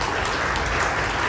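Steady dense applause from a church congregation, a continuous wash of many hands clapping at once, loud and close throughout with no pauses.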